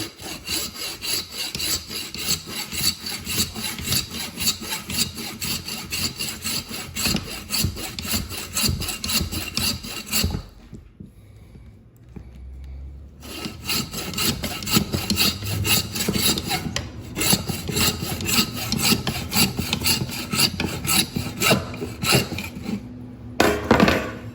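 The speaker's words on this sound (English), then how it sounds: "We're gonna saw off the skull plate from the skull." Handsaw cutting through a deer skull to remove the skull plate between eye and antler burr, loud close rhythmic rasping strokes, a brief pause midway, then sawing resumes steadily to the end.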